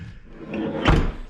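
A Jeep Cherokee XJ door lock is tested after a passenger window motor replacement, a single sharp mechanical clunk near the end of a short, close span of low rustling.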